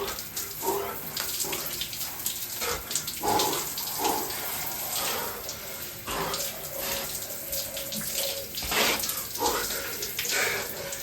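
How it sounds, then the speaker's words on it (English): Cold shower water runs steadily and close by, a continuous splashing hiss with irregular spatters as the stream breaks over a body, with no speech. "Let's hop in the cold shower."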